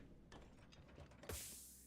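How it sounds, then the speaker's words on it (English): An old chair creaks and squeaks in a few short, faint bursts, ending in one sharper squeak. No voices are heard. "sorry if you hear squeaking in the background"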